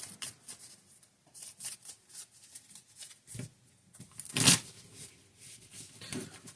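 Playing cards being shuffled back into a deck during a Marvel Champions card game, giving a few soft riffling bursts with one sharper, louder flurry near the end, quiet and close.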